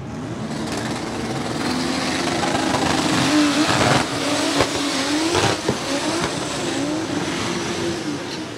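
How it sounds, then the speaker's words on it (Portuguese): A drag racing car does a burnout at a Brazilian drag strip event, its engine roaring and revving loudly and continuously with a broad, harsh rush of noise and a few sharp surges. "Agora sim, burnout liberado."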